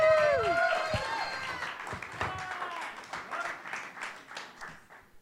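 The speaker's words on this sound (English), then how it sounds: "Nice big round of applause." A storytelling event audience greets a performer with a high cheer and whoop, then a moderate round of clapping that gradually dies away, with voices mixed in.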